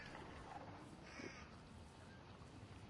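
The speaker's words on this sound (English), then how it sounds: "Crows right in front of us." Crows caw faintly a short distance ahead during an outdoor hunt, a few scattered calls over quiet ambient background.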